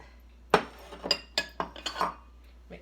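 A utensil clinks and scrapes against a bowl as sugar is mixed into bread batter, a handful of sharp, close knocks and scrapes spaced irregularly with no talk.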